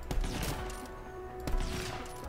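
Two heavy sniper rifle shots ring out from a Jacob's rifle in Borderlands 3, each a sharp loud crack with a rumbling tail, spaced about a second and a half apart.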